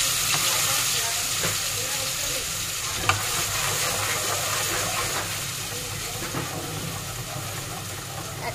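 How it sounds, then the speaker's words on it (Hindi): Ginger and garlic fry in hot oil, a continuous soft crackling sizzle with occasional faint scrapes and one sharp tap, heard close and at moderate level without speech. "सबसे पहले हम इसमें अदरक लहसुन भून लेंगे"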